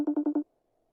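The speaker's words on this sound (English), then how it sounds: "We need to put Usyk in this phone call" A FaceTime video call rings with four short, evenly spaced electronic beeps in quick succession, clear and alone, followed by silence.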